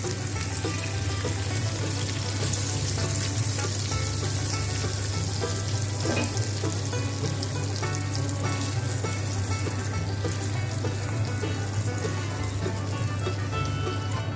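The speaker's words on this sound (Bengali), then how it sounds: "ফোড়নটা যে বানালাম সেটাকে ঢেলে দিচ্ছি" Hot tempering poured over curd brinjal for dahi baigana, giving a loud, steady sizzle that carries on close and unbroken for a long stretch over a low background hum.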